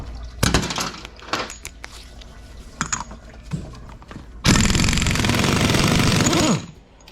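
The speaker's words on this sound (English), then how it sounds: "So we'll take the output nut off. So we'll use our handy dandy impact." An impact wrench removes the output nut from a Velvet Drive marine transmission during teardown. Scattered clanks and handling knocks lead into a loud, close, sustained hammering burst of about two seconds that then cuts off.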